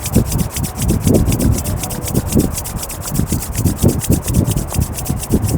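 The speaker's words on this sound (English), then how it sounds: "Rub your hands." Palms rub briskly together during an evening yoga session, a steady, rhythmic swishing of about five strokes a second. It sounds close and fairly loud, with no talk.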